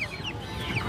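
Chickens clucking at a busy poultry market, including young tiger and local village hens, a brief burst of close, overlapping clucks and chirps.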